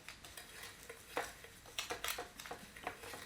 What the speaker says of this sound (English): So I'm just going to mix this dry to begin with in this beaker here.